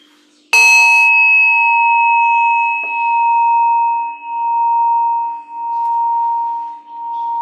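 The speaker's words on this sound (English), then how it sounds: "You'll hear 1 chime to open the set." A single meditation chime is struck once and rings out loud and clear, its pure tone sustaining and slowly pulsing as it decays over several seconds, alone without voices.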